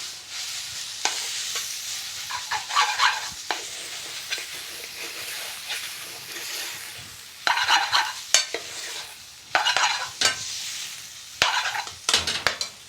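A tomato and curry mixture for chicken tikka moghul sizzles and is stirred in a pan, with steady frying hiss broken by recurring bursts of spoon scraping against the pan, close and fairly loud, with no talking.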